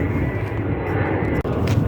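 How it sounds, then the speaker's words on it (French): An airplane passes overhead with a steady, loud engine drone that holds evenly throughout, alone with no voices. "Encore un avion."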